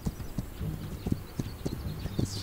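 Horse hooves clip-clop steadily in a video game, a continuous rhythmic series of close hoofbeats over background game ambience.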